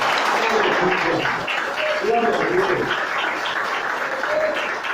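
Church congregation applauding during a Santa Ceia communion service, a loud sustained burst of clapping with a voice calling out praise over it.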